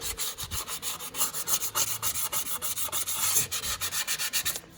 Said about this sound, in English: that's the mating surface all cleaned up. Again, that's with a 600 grit sandpaper.